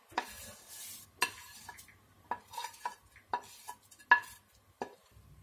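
Vermicelli roasted in ghee being stirred into boiling milk for payasam, a sequence of distinct spoon-against-pot scrapes and clinks spaced irregularly, with a faint simmering bubble beneath.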